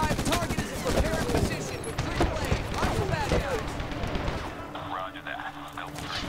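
Rapid video-game gunfire crackles in the World War II shooter Medal of Honor, dense machine-gun bursts for about four seconds before easing off, while a player talks in German over it.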